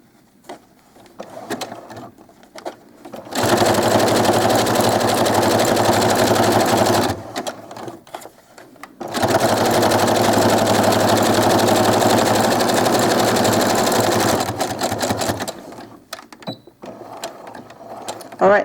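A sewing machine runs a 3-step zigzag stitch, attaching Velcro to doll clothes. Two long, steady bursts of close mechanical whirring are separated by a short pause, with quiet handling noises before, between and after.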